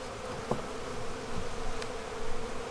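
Honey bees buzz around hive brood frames, a close, soft drone with individual insects passing near, faint and continuous with no voices.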